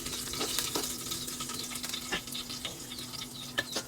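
Green chillies and ginger-garlic paste crackle and sizzle in hot oil for a tadka, a close, steady frying hiss broken by sharp pops and spatters.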